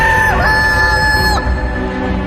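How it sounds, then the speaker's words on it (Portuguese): A rooster crows once, loud and close, a bright rising-then-falling call in a dramatized Easter story of the crucifixion, over a low background rumble. "Imediatamente, o galo cantou."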